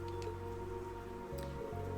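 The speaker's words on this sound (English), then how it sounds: "It's not raining that hard." Steady rain falls in a Trails of Cold Steel 3 scene, a continuous, even patter that holds at a constant level throughout, with soft tonal game sounds hovering underneath.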